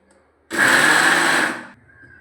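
Mixer grinder running dry on puffed rice, a single loud, steady whirring burst of about a second and a quarter that starts abruptly and cuts off, with quiet before and after.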